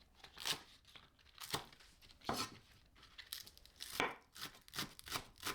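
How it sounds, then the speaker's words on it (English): A knife slicing a spring onion on a board, a series of quiet, crisp cuts with uneven spacing, close and alone. "Slice 1 spring onion."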